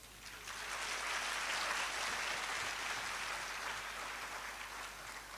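Soft, thin applause from a crowd at an induction ceremony for newly qualified physician assistants, a light patter of clapping that swells briefly and then holds at a modest, distant level.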